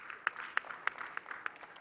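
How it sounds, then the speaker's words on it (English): Applause for the organisers at the launch of the Ghana Music Awards, with a few distinct loud claps landing at a regular beat over softer scattered clapping from the gathering. "I want all of us to give them, before we say it, a big round of applause"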